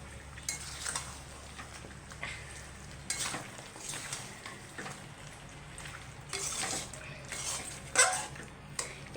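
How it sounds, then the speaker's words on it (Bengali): Country chicken with the skin on is sautéed in a pan after long browning, making a soft, low sizzle with irregular scrapes and clatters from a stirring spoon against the pan. "এই যে মাংসটা পুরো ভালো করে কষানো হয়েছে"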